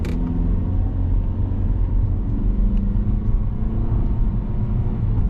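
A 2025 Mazda 3 sedan with a naturally aspirated 2.5-litre inline four-cylinder engine pulls away, a steady low engine and road rumble heard from inside the cabin, loud and even throughout.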